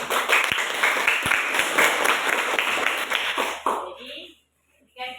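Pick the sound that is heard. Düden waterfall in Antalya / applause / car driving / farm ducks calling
applause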